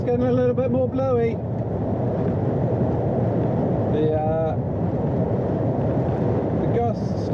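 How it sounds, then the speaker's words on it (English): Constant heavy wind roar from Storm Brian buffeting the microphone throughout, loud and close, with a few brief tonal whines rising over it. "The gusts starting to buffet us about a little bit."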